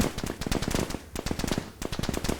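Rapid automatic gunfire in the video game Army Commander, dense bursts of shots crackling almost continuously with brief pauses, loud and close.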